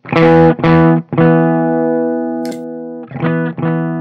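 Electric guitar through a volume boost pedal plays a few punchy notes then a long sustained one that slowly fades, followed by two short picked notes, loud and fairly clean with slight grit.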